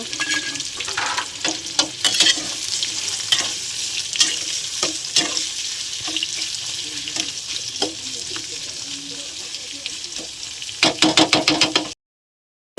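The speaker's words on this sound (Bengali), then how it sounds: "সেই কড়াতে আমি পেঁয়াজ কাঁচা লঙ্কা দিয়ে দিলাম," Chopped onion and green chili frying in hot oil in a wok, a steady loud sizzle broken by repeated sharp knocks and scrapes of a spatula stirring, ending abruptly in silence.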